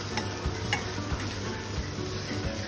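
Fried rice stirred in a hot pan with steady sizzling, punctuated by regular scraping and tapping strokes of a utensil, close and alone.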